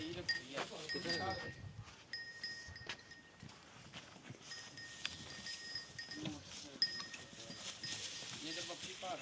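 A goat bleats a few times amid a farmyard sale of livestock, with people talking nearby and clattering, shuffling movement around the animals.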